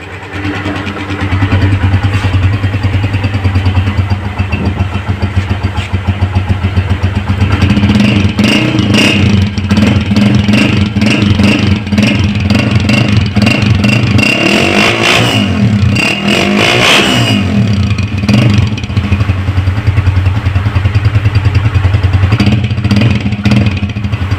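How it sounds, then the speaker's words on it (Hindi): A Honda CG125 motorcycle engine runs loudly and close, idling with a throbbing exhaust and revving up repeatedly through its silencer. "अब सलेंसर का भी इसी तरीके से साउंड चेक कर लेते हैं"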